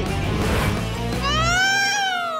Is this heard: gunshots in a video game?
no